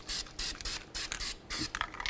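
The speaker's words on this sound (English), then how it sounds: "spray on a little bit of copper never sees" Copper anti-seize sprayed from an aerosol can onto the rear brake hub of a 2006-2012 Ford Fusion, five or six short, close hissing bursts separated by brief pauses.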